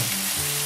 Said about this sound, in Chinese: 把这豆腐呢简单的给它煎制一下